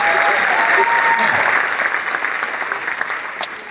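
Audience applause at a stand-up comedy show, a dense wash of clapping that starts loud and tapers slightly over a few seconds, with faint crowd murmur beneath.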